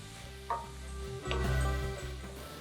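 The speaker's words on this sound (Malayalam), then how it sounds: "നമ്മുടെ ഈ ചേരുവകളുടെ പച്ചപ്പൊക്കെ ഒന്ന് മാറി വരുന്നത് വരെ നമുക്കൊന്ന് നന്നായിട്ട് ഇളക്കി കൊടുക്കാം" Chicken kanthari masala being stirred in a pan as it fries, a steady close sizzle with scraping stir strokes and a few louder clanks of the spoon against the pan.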